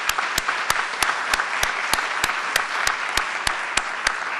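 An audience at a university general faculty meeting applauds, sharp distinct claps standing out over a softer bed of steady clapping that holds constant throughout.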